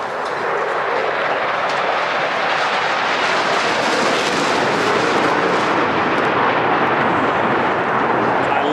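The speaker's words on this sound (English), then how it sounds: "the F-35, it's sleek, it's designed to help evade enemy radar" A loud, steady roar from an F-35 fighter jet passing overhead at the Thunder Over Louisville air show, a broad sustained rush that swells slightly midway and holds without a break.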